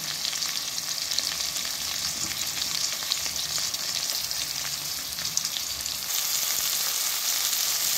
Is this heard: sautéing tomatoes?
yes